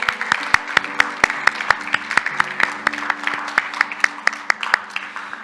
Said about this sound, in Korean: 우리 아이들 위해서 큰 박수로 다시 한번 환영하겠습니다